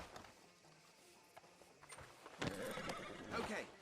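A horse whinnies in Red Dead Redemption 2, with clip-clop hooves on a town street near a sheriff's office, a faint call early, then louder neighing toward the end over quiet ambience.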